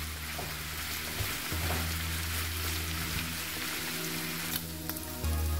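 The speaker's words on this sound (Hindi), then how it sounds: "इसे हम फ्राई कर लेंगे, थोड़ा सा हल्का सा फ्राई करेंगे" Paneer lightly frying in butter in a pan, a quiet, steady crackling sizzle in the background, with a low hum and a few faint clinks.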